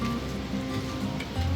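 Steady light rain falling on the road to Chitkul, a soft continuous hiss with a low rumble beneath, even and unbroken throughout.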